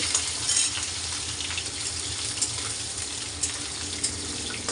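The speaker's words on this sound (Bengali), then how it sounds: "এই যে আলুটা ভেজে নিচ্ছি" Potatoes fry in a pan with a steady, dense sizzle that carries through the whole clip. It sounds close and stays at an even level, with small crackles and no speech.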